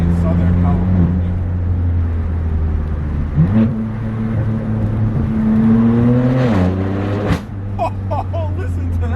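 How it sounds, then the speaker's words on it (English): A BMW M4 F82 with an AWE non-resonated track exhaust and stage 2 tune drones loudly and steadily, its deep note rising in pitch twice as it accelerates, with a voice talking over the engine. "We've got an AWE non-resonated track exhaust"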